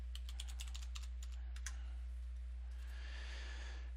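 Quick, light keystrokes on a computer keyboard entering a router login, a short cluster of taps followed by a softer patter, heard faintly over a constant low electrical hum with no speech.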